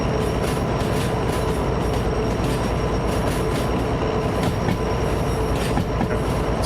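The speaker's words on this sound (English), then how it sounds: "The train is a Talent 1 and the sound is a Talent 2." A Talent 2 electric train rolls along steadily in Derail Valley, a continuous rumbling drone, rhythmic wheel clicks and occasional squeals, loud and unbroken throughout.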